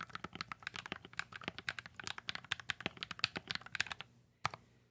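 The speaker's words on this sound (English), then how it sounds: "Let's let people hear the satisfying clickiness." Rapid clicky typing on a mechanical computer keyboard held close to the mic, a dense run of sharp, bright key clacks in uneven rhythm, ending with a short pause and one final stroke.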